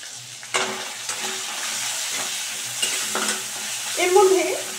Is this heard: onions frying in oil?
yes